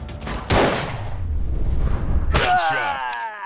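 A gunshot in the Android shooter Rescue Cop rings out with a sharp crack and a short echoing tail, followed by a second burst and metallic ringing, while a voice speaks briefly over it.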